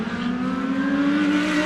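McLaren race car nearing the finish line of a race, a loud sustained engine drone with a rising pitch as it accelerates, close and continuous.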